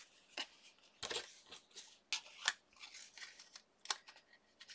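Scissors cutting paper for an altered paper clip craft make a series of close, crisp snips and rustles in uneven bursts, with no talking.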